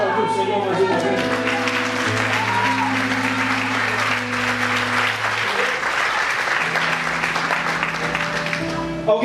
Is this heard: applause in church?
yes